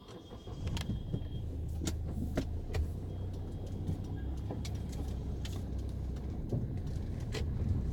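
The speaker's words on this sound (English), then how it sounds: "So let's start the car and start moving." A Hyundai Verna runs with a low, steady engine hum as it pulls away, broken by scattered clicks and small knocks from inside the cabin, with no one speaking.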